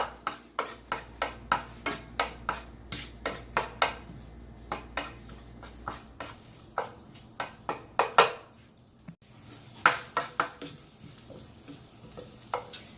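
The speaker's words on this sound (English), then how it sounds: "Saute a little bit." Chopped garlic sautés in a pan while a utensil scrapes and knocks against the metal in a steady rhythm of sharp clacks, with a soft sizzle between strikes.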